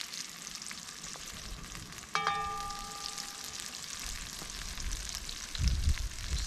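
Onions sizzle and crackle steadily in hot oil, with a brief clink of a utensil partway through.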